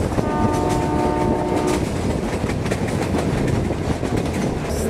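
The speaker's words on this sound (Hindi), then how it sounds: "इस जगह फाटक नहीं है इसलिए धीरे धीरे हॉर्न बजाते हुए निकली है गाड़ी।" Meter gauge train sounds a long steady horn at an unguarded level crossing, the blast stopping after a couple of seconds while loud rumbling and clattering wheels continue as it passes close by.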